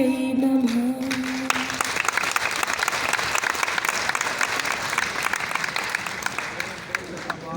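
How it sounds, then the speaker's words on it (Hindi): An audience claps loudly and steadily at an educational event in a hall in Patna. The dense applause continues for several seconds, and a voice speaks briefly over it at the start. "एक बार जोरदार तालियां"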